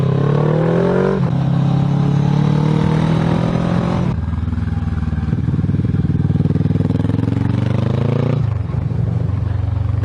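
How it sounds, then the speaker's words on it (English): A motorcycle climbing a mountain pass on the Stelvio accelerates hard out of a bend in second gear with no clutch, its engine note rising loud and close in repeated revving surges, with no talk over it. "Second gear out of a bend like that without any clutch."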